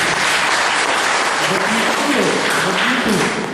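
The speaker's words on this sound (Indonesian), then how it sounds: "Tepuk tangan Konfusius." An audience at a spiritual talk bursts into loud, dense clapping that fills the hall, with a voice speaking over it midway before the applause tapers slightly at the end.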